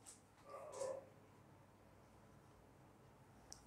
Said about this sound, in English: Just a second, the street dogs.